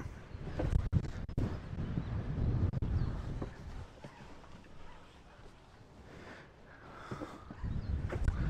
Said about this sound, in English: It's a real windy day today.